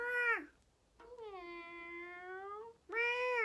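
A voice imitates a cat with two drawn-out meows, close and clear, separated by short pauses, with a third meow starting at the end.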